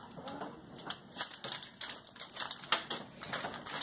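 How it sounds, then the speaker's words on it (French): A packet of powder being torn open in a kitchen, a quick run of crisp, crackly rustles and tearing clicks, close and fairly quiet with no talk. "D'abord, nous devons ouvrir la poudre."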